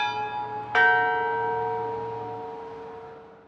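Two bells in the Holy Trinity Cathedral tower in San Francisco, close and loud, are struck together once after a fading earlier tone, their clashing metallic tones ringing out and slowly decaying.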